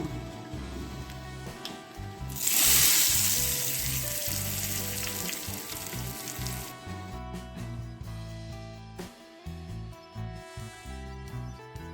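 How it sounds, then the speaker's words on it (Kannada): Spices for tempering hit hot oil with a sudden loud sizzle that crackles on steadily, then fades into lighter spitting and frying. "ಈಗ ಒಂದು ಒಗ್ಗರಣೆ ಹಾಕ್ಕೊಳ್ಳೋಣ"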